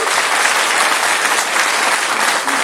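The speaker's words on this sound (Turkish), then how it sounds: "Sizi bir alkışlamak istiyorum." Loud, close applause from the audience at an AK Party district congress in Kozan, a thick unbroken roar of clapping hands that holds level for its whole length.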